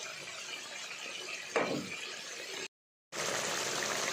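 Mustard paste lands in a pan of ridge gourd cooking with turmeric, chilli powder, tomato and green chillies. It makes a sudden short burst of sizzle over a steady frying hiss, and a brief silent gap follows.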